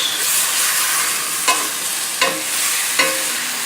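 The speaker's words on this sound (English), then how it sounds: "The mushrooms. As we stir, it shrinks." Mushrooms fry with fresh garlic and onions in a pan, a close, continuous sizzle broken by three spoon-stirring scrapes about a second apart, with no talking.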